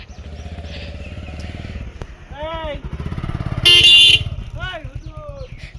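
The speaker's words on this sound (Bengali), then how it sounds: "কি করে হর্ন বাজাচ্ছে দেখেছো?" Vehicle horns toot several times in short bursts on a village road, with a loud blast near the end, over motorcycle engine noise and someone talking.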